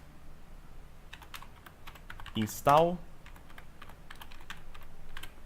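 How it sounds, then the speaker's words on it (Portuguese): Someone types a command on a computer keyboard, a run of quick, light key clicks in irregular bursts, with a brief spoken word in the middle. "Uma vez instalado o Python, você simplesmente vem aqui e digita pip"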